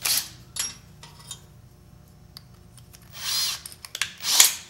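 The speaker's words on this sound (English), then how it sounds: "I'm going to drill me kind of a pilot type hole." A drill whirs in a few short, quiet bursts with brief gaps between them, the bit briefly catching as it starts a small pilot hole in a Sears saw shaft.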